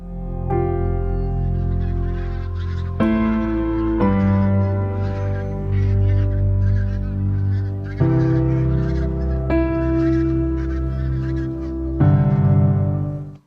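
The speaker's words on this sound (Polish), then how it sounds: "Pierwszy klucz żurawi leci" A flock of common cranes flying overhead calls continuously, loud overlapping trumpeting cries that shift in pitch, with no pauses.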